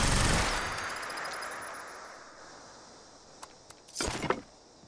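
Enemy gunfire in Fallout 76: a brief burst of shots at the start fading into a long decay, then a few scattered sharp cracks and a denser cluster of rapid shots near the end.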